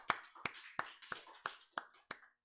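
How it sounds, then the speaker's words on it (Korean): Clapping at a Sunday church worship service comes as seven sharp, evenly spaced claps in a steady rhythm, crisp and fairly close, then stops. "하나님께 영광의 박수 돌려드리겠습니다"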